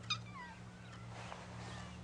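A domestic cat gives a short, faint meow near the start, then a quieter drawn-out mew over a low steady hum in an indoor room.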